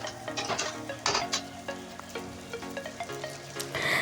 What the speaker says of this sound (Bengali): ধুয়ে জল ছড়িয়ে রাখা চালটা একটু নাড়াচাড়া করে নিলাম